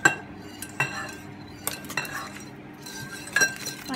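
A metal spoon clinks and scrapes in a bowl of runny liquid mixture during home cooking, several sharp close taps spread across the moment with soft stirring between, no voices.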